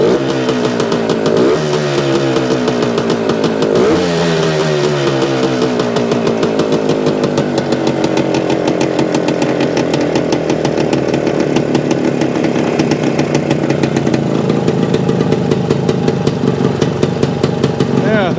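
Suzuki TS-250 two-stroke motorcycle engine running a little over idle, a loud, close, steady buzzing putter with slight rises in revs, continuous throughout.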